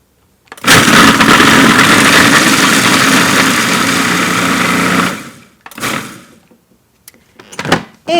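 A food processor chopping dates for a raw no-bake dessert runs loud and steady for about four seconds, then stops, followed by two short bursts of pulsing whir with quiet gaps between.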